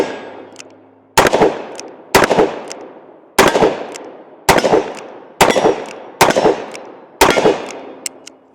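Six loud, sharp revolver shots from a gun fitted with a Midwest Industries brace, spaced about a second apart, each with a ringing echo tail, outdoors and close.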